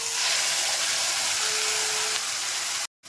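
Spices tipped into hot oil with fried onions for a Bengali mourala fish curry, giving a loud, steady hiss and sizzle up close that holds without a break, then cuts off abruptly near the end.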